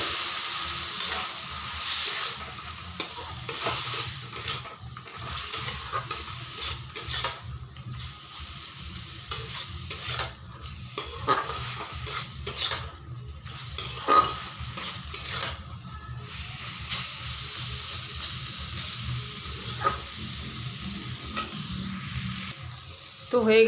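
Spinach curry cooked with mustard, shish palong, bubbles and sizzles steadily in a pan after a little water is added. A spoon stirs and scrapes against the pan with repeated clinks throughout, up close.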